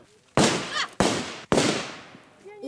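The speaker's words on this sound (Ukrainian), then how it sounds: "Три постріли з Калашникова у груди." Three sharp, loud Kalashnikov rifle shots fired at close range into the chest of a body-armor vest during a ballistic test, each a hard crack followed by a ringing decay, spaced roughly half a second apart.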